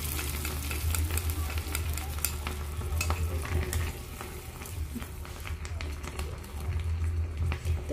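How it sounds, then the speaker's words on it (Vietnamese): Fermented soybean paste sizzling and frying in a pan with golden fried garlic, a steady crackling sizzle with stirring scrapes, loud and close, with no talk. "bây giờ tỏi của mình thì là đã phi vàng nè các bạn, mình sẽ cho cái phần tương hột vào vô ha"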